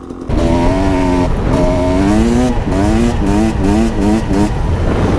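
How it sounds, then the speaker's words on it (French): A two-stroke engine fitted with a Fresco exhaust line revs hard in repeated rising bursts, each climb in pitch followed by a brief drop, loud and close with no voices. "Ce bruit du démon, le bruit du deux temps, la puissance du deux temps"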